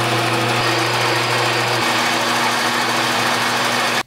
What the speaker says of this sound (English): We drill another hole in the end of this guy.